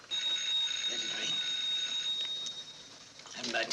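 A telephone bell rings steadily in an indoor scene while someone waits for an answer, a thin continuous ring running under quiet background sound.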